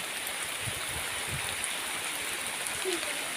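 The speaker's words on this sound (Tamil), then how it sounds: "மழை சரியான மழையாக வந்துட்டு பாருங்க அடித்து வெளுப்பாங்குது" Heavy rain pours down in a village in steady, dense hiss, with no voices heard, while village cooking takes place.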